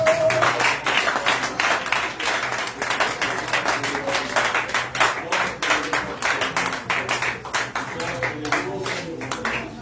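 A church congregation in Baltimore claps and applauds in acclaim of Jesus Christ, a dense, steady stream of many hands clapping close by for about ten seconds, with voices mixed in underneath.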